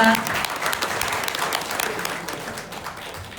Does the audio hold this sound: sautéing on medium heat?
no